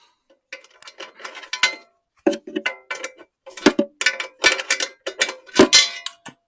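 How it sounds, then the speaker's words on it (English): A 10mm spanner works a bolt on a 1980 Honda CT110 trail bike with close, dry ratcheting clicks and metallic scrapes in irregular bursts and short pauses. "Take the screw out of here, which has given me enough room to get to this bolt there with a 10mm spanner."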